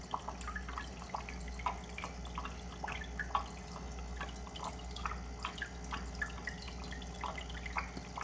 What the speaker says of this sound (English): the water's getting filtered in the big tank